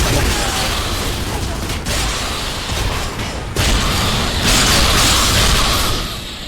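Gears of War 3 gameplay with loud, sustained enemy gunfire aimed at the player, dense bursts and booming impacts filling the whole stretch, plus a brief shift in intensity partway through as shooting continues.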